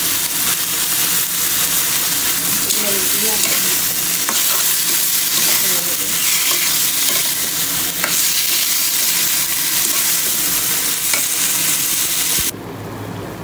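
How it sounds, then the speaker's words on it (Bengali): Fish frying in a pan, a loud, close, continuous sizzle and spatter holding steady throughout before dropping slightly at the very end, with no talking. "এই তো মাছ বসাইছি, বসাইয়া সব কিছু বসা খালি দিয়ে দিচ্ছি।"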